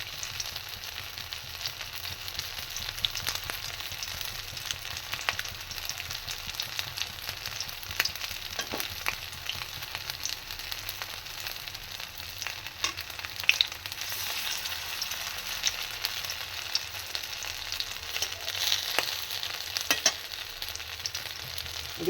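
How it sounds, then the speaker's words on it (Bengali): Pieces of food fry in oil in a pan with a steady, close sizzle and crackle that runs unbroken throughout, with a few sharper pops and stirring scrapes along the way and no voices. "এইভাবে আমি এগুলোকে ফ্রাই করে নেব"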